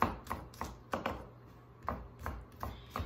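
A knife mincing garlic cloves on a cutting board makes sharp, separate chops in an uneven rhythm, close and fairly quiet, with short pauses between strokes and no talking.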